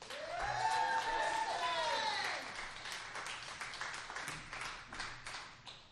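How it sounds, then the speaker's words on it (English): A crowd at a live poetry show applauds a crew member as he takes the stage, with a loud whooping cheer over the clapping at first, then thinning, scattered claps and murmurs trailing off. "so please give him a round of applause"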